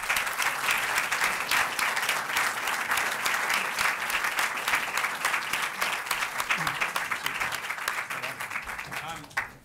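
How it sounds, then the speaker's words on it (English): An audience at a 2018 St Brelade No.2 deputy hustings gives the candidates a sustained round of applause, dense clapping from many hands that holds steady, then thins and fades near the end. "I hope you'll join me in giving them a round of applause"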